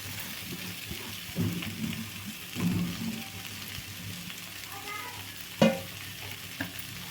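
Grated coconut frying and being stirred in a pan while cooking a Telugu-style side dish, with a steady low sizzle and a few louder scraping stirs, including a sharp clatter near the end, no voices present.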